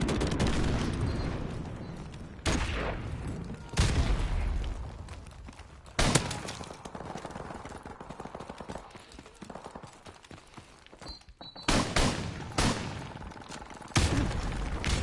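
Shotgun fire in a prop hunt video game match, several heavy blasts spaced a few seconds apart, each sharp and loud, with a steady background rumble between them.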